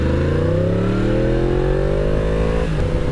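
A motorcycle engine revs up hard on a two-lane back road, its pitch climbing steadily in a loud, close, continuous roar before easing briefly near the end.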